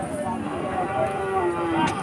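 A calf moos at a busy cattle market, a drawn-out low call rising over the crowd's background murmur and chatter.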